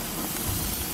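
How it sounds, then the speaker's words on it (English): Thin skirt steak sizzles on a hot cooking surface, giving a steady, close hiss with soft crackle throughout, with no talking. "let's watch those bad boys sizzle"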